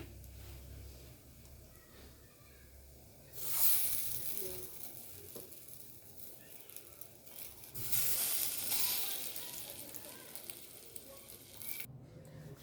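Spring onion fritters sizzle as they fry in hot oil, a soft steady crackle that swells louder twice as more batter goes into the pan, with no talking.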